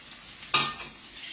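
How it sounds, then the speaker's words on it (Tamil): Pirandai (adamant creeper) sautéed in a pan, heard as one sharp sizzling burst as the stems hit the hot oil, followed by a softer fading fry and faint stirring. "இது பிரண்டை எல்லாத்தையும் போட்டு வதக்கணும்."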